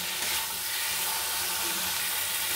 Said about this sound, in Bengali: যে আলুটা সিদ্ধ করে রেখেছিলাম সেই আলুটা আমি তুলে দিয়ে মশলার সাথে একটু কষিয়ে নেব